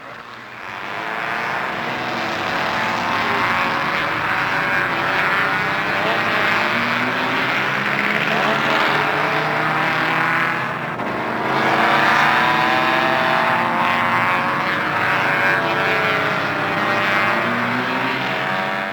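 Racing cars in a 1977 road race at Road Atlanta roar through the S-curves, a loud, sustained, overlapping engine drone with rising and falling pitch as the leading cars pass near.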